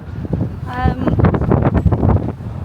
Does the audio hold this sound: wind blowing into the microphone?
yes